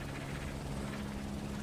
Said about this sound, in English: There's my helicopter.